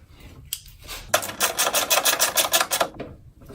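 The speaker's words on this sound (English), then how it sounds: "Get your 12mm bolt back in there." A ratcheting 12mm socket wrench tightens the bolt on a car battery strap, with a brief tap and then about two seconds of fast, even, close clicking.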